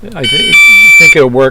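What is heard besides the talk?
driveway vehicle alarm going off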